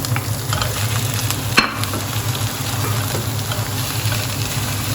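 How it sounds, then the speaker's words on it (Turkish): Onions and half a kilo of minced beef sauté together in a pan for a börek filling, a loud continuous sizzle with one sharp utensil knock and low stirring scrapes. "Şimdi iki malzemeyi de güzelce kavuruyorum."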